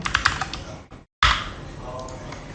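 Fingers type quickly on a computer keyboard to enter data, a close burst of clicking keystrokes that stops for a moment and then resumes more softly.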